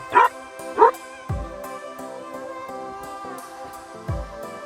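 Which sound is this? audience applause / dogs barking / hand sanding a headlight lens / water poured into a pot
dogs barking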